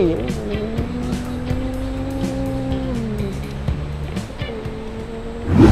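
A car engine runs steadily with a low droning tone that shifts pitch once, ending in a louder surge, heard up close without speech.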